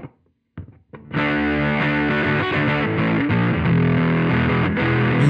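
Electric guitar played through a Vite pedal set for heavy distortion, strumming a dense, rhythmic, sustained riff that starts after a few brief picked notes and stays loud and saturated throughout.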